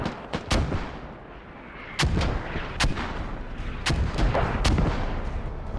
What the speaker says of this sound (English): Mortars being launched directly over here.